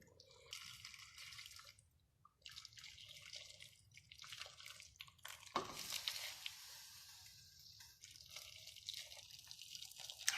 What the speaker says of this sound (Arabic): دوك نزيد عليها الماء حامي